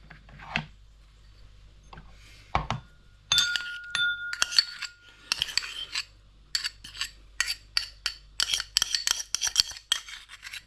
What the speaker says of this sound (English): we're going to literally take all these into the bowl and give it a damn good stirring through